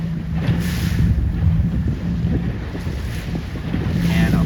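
Strong wind buffets the microphone aboard a 29er dinghy sailing on choppy water during racing, a constant close rushing roar over splashing waves, with no voices.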